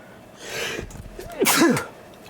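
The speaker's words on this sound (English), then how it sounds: "So I'm not gonna keep sneezing, I'm so sorry." A single loud sneeze follows a sharp breathy inhale, with a short throaty voiced catch at the end.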